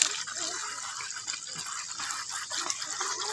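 Water flows strongly from a tap in a steady, bright, hissing gush with small splashy fluctuations, close and continuous throughout.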